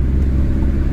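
A car engine under light throttle, the driver easing on the gas to accelerate during a driving lesson, gives a steady, close, low rumbling drone with no breaks.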